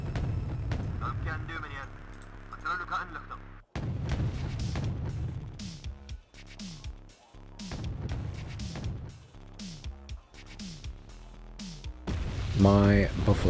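Artillery and mortar rounds in the real-time strategy game Wargame: Red Dragon thump and boom repeatedly amid rumbling battle noise, with someone talking over much of the gunfire.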